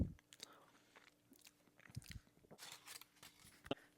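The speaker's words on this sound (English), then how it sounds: "There's a lot of cookie crunch with that." Biting and chewing a Reese's Oreo peanut butter cup with a chunky cookie piece, giving close, quiet crunches and soft mouth sounds in irregular bursts, with a brief loud crunch near the end.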